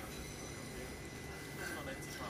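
A Southeastern class 375 electric train pulls into a station, a steady broadband rumble and rolling roar with a faint high wheel squeal near the end, fairly distant and under light background noise.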